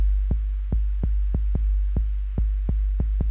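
A slow Jersey Club kick drum rhythm sped up to 145 thumps in a bouncing, uneven pattern of deep kicks over a low sustained hum, alone without talk.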